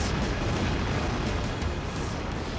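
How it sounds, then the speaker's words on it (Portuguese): A loud, continuous roar of deep rumbling explosions, like heavy artillery fire blending into one dense wall of booms. "tem alguém usando artilharia pesada"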